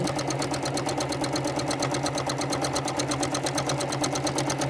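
Sewing machine stitching continuous curves across a quilt, a steady rapid mechanical clatter of evenly repeating needle strokes running close and unbroken, with no voices.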